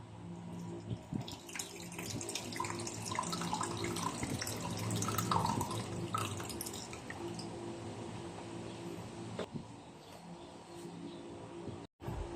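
Coconut milk for laing is strained by hand, with wet squishing, dripping and trickling liquid sounds running continuously up close, a brief dropout near the end.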